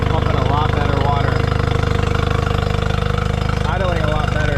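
A Honda 20 horsepower outboard motor idles steadily and close by, with a fast, even putter throughout, while someone talks over it.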